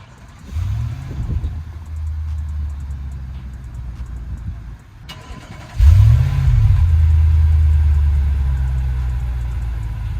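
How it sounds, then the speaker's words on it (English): A 2023 Infiniti QX80 SUV engine cranks and starts, revving briefly, settles, then fires up again with a louder rev into a steady low idle, close by. "here's a quick startup on this QX80 and how it sounds"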